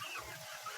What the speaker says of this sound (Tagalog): Ayan po ang ating mga manok, nagkalat rin.